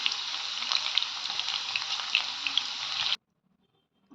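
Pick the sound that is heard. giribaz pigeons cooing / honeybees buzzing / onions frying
onions frying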